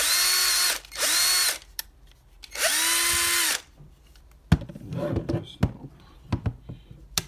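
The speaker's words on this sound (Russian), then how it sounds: "вот сама дрель шуруповерт" Cordless drill driver spinning up in several short bursts, three whirring runs of a second or so with audible speed ramps, followed by clicks and handling knocks, up close.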